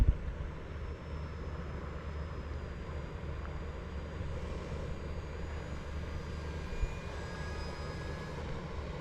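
A micro EDF model jet flying at full throttle, heard as a steady, distant whooshing drone with a faint high whine that rises and falls, and no talk.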